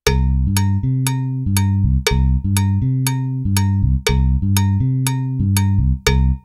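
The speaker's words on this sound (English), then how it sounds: "I'm going to do a salsa bass line." Salsa bass line played with the left hand on a keyboard: a repeating syncopated pattern of deep notes, heard alone and close, with a sharp bright click on each beat that sounds like a cowbell.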